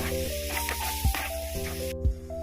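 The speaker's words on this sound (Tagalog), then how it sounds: "Next, igisa na rin natin ang fermented black beans." Fermented black beans sautéing in margarine in a pan, giving a steady close sizzle and spray with a few soft stirring bumps.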